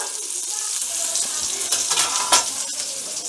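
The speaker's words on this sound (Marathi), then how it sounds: "तेलामध्ये भाजून घेते." Onion and green chillies fry in oil in a pan with a steady, close sizzling hiss, broken by a few brief stirring clatters toward the end.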